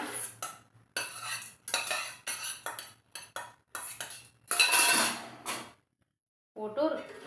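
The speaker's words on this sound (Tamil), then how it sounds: "ஒரு கலக்கு கலக்கி விட்டுறணுங்க இந்த பாகுக்குள்ள பூந்தியை" Boondi being stirred into sugar syrup for Tirupati-style ghee laddu, with repeated clinks and scrapes of a metal spoon against a vessel in bursts, a short pause, then more clatter; speech is present at moments.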